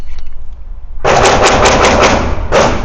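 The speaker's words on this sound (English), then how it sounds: "somebody about to shoot beside me" Rapid gunfire cracks from a neighboring lane at a shooting range, a quick string of loud sharp shots close by, starting abruptly after a quiet moment.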